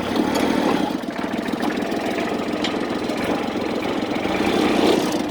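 A Kubota 34 hp tractor with 2,634 hours on it idles close by, its engine throbbing in a loud, even, rapid pulse that stays steady from start to finish, with no voices.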